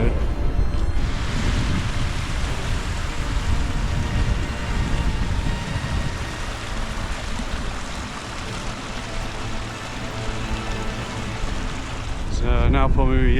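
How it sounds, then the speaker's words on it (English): Strong wind on a mountain hike toward Creag Dhubh near Glencoe Mountain Resort in Scotland, buffeting close as a loud, continuous broadband roar that surges and eases for the whole stretch. "It's quite windy today."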